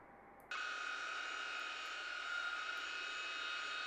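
Jet engines of a Tupolev Tu-154M in a flight simulator game drone steadily. After a half-second of quiet, a high whine with a constant tone comes in and holds at an even level.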